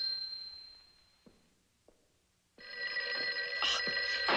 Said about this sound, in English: Who could be ringing at this time?